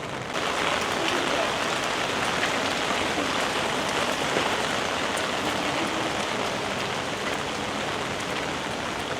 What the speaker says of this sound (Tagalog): lumalala na yung ulan